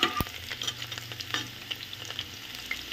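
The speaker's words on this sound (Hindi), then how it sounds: "अभी हमारी प्याज भून रही है" Finely chopped onions frying in a pan as they are stirred, soft crackling sizzle with scattered scraping clicks and one sharp clink near the start, quiet and close with no talking.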